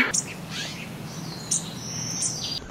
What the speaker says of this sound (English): The birds here in Colombia are so cute.